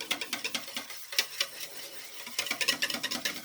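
Dairy-free ice cream mixture being stirred in a bowl, giving close, quiet bursts of scraping and tapping in an uneven rhythm, with a brief pause midway before the stirring picks up again.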